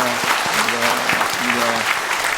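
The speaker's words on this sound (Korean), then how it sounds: "오늘 우리 하나님께 감사와 영광의 박수 한번 올려주시면 감사하겠습니다" A church congregation at a Korean Sunday worship service gives a full, steady round of applause, with a voice speaking over the clapping.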